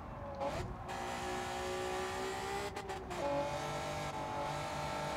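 A Honda NSX Type R in Gran Turismo 7 on the Tokyo Expressway slides as its rear tyre loses grip. The engine drones and shifts pitch, and tyres squeal under a continuous loud roar, with no talk.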